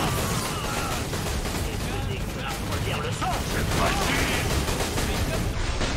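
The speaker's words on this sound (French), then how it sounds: "J'ai claqué 7 cartouches" Gunfire in a shooting video game, dense and continuous with overlapping bursts, with people talking over it.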